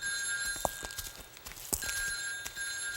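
A telephone rings indoors with a steady electronic tone. It sounds fairly faint against quiet room noise and a few soft movements, and no one speaks.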